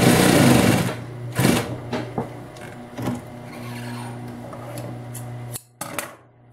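A Singer 196K5 heavy straight-stitch sewing machine with reverse punches through six thick layers in loud, steady bursts, its motor hum running between quick runs of stitching and brief pauses, with no talking.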